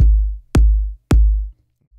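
Three deep, booming kick drum hits programmed on C3 in Ableton Live at about 126 BPM, evenly spaced in a steady four-on-the-floor pulse, each with a long low decay and nothing else playing.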